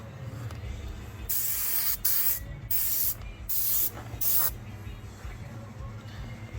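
Aerosol spray paint hisses in several bursts onto a 1/5 scale Baja RC body, coats going on in bursts of roughly a second with short pauses, close and loud over a low background rumble.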